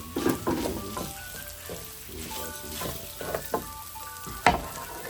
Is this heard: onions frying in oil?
yes